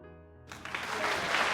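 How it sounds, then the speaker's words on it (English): A venue audience at a banquet bursts into enthusiastic applause, dense clapping swelling in over a fading musical tone and growing louder. "the whole venue erupts in enthusiastic applause"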